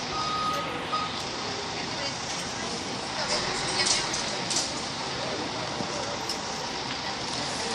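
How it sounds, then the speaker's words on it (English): Bus pulling away from a stop with its reversing beeper chirping, engine and road rumble spread through the scene at moderate distance, mixed with background traffic noise. "There's the bus departing. It's now about to depart."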